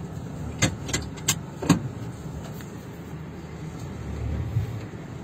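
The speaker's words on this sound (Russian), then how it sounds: "Сейчас проедемся дальше на машине," Car driving along a badly broken street in Bălți, with a low rolling road rumble and several sharp knocks and bangs from potholes, most clustered early on.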